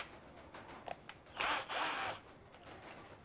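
A red JLD Tools 12 volt cordless drill driving screws into wood, with two short close whirring bursts in the middle between quieter handling clicks and rustle, and no voices.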